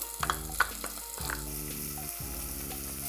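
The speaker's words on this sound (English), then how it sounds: "Just saute that for a little bit, let it get translucent." Onion, carrot and celery mirepoix sautés in a pot with bacon, giving a steady close sizzle with a few light stirring clicks and a low background hum.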